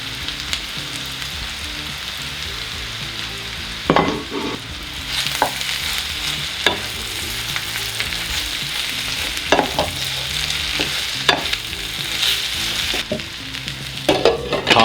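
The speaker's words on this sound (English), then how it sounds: "I am adding in the shaved steak, mixing that up really well." Shaved vegan steak sizzles steadily in a hot pan for a Philly cheesesteak, with repeated scraping and clattering stirs breaking through the continuous frying hiss.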